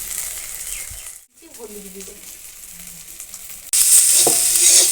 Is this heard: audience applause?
no